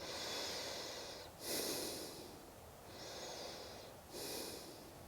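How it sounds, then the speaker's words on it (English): Slow, deep breathing during a meditative yoga practice, long airy inhales and exhales alternating in a steady rhythm, close and soft, with no talk. "Take some breath here."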